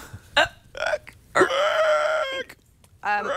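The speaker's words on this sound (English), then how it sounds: "excuse me, I have the hiccups." A single hiccup from a man on a tech talk show, a short sharp vocal burst standing alone among brief voiced sounds, close and moderately loud.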